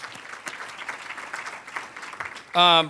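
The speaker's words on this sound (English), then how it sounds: "a round of applause for Greg Dunham from District 186" An audience at an Educator of the Year event applauds steadily with dense, even clapping, and a voice starts speaking loudly over it near the end.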